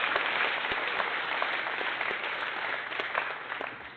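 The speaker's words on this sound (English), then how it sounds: "Round of applause to Mad Jam" An audience at a gaming charity event's opening ceremony claps for a guest, a dense, moderately loud burst of applause that gradually tapers off over about four seconds.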